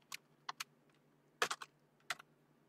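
Keystrokes on a computer keyboard while a delivery message is entered in a courier management web app, a few quiet separate clicks followed by a quick cluster and one more tap, close and alone.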